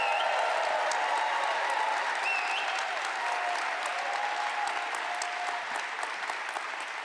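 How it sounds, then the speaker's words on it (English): A crowd at a basketball press conference applauds the Mountain West championship and NCAA tournament team, a steady, even wash of many clapping hands that continues without pause and tapers only slightly at the end. "how about a round of applause for our Mountain West Conference Championship team and NCAA tournament team?"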